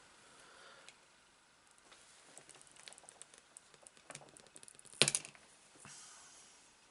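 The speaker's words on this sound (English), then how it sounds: "on this one I'm going to snip this metal base off" Sharp cutters snip the metal base off a miniature figure, a few faint clicks and scrapes leading to one crisp, louder snap, then light handling noise.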